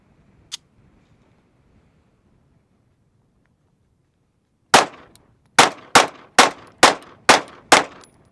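Seven sharp rifle shots from an Icarus Norsso Radian build, a lone early report followed by a pause, then six evenly spaced loud cracks in quick succession, outdoors with no talking.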